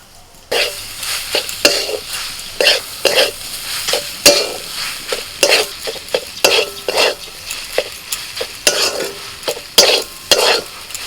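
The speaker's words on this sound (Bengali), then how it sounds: "এটাকে একটুখানি নাড়াচাড়া করে নেবো আমি মশলার সাথে" A spoon stirs gram flour, spices and chopped green peas in a sizzling pan, with irregular scraping and knocking strokes against the cookware over a steady frying hiss.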